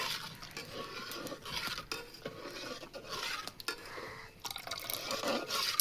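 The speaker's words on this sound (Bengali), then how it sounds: "অল্প অল্প করে দিয়ে দিচ্ছি ভিনেগারটা, দিয়ে নাড়তে থাকবো অনবরত।" Vinegar is poured little by little into milk while a spoon stirs the pot continuously to curdle it into chhena for sweets, giving soft liquid sloshing and light metal scraping against the pan, fairly faint throughout.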